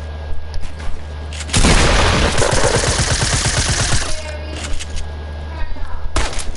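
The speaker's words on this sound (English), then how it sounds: "Oh, my sniper shots" Sniper rifle fire in a video game, a dense burst of rapid shots roughly in the middle, loud and close, with quieter game sounds before and after.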